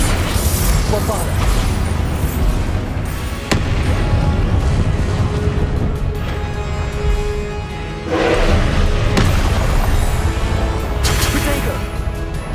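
Spell explosions boom and crackle continuously in Hogwarts Legacy combat, loud and dense, with voices calling out spells over the blasts.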